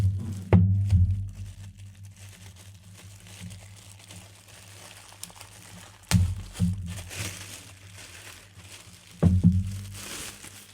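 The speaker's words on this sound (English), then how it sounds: "let's get them out of the plastic bags." A pair of Micca RB42 bookshelf speakers is pulled from plastic bags, making close crinkling and rustling in three louder bursts with handling thumps and quieter rustles between them.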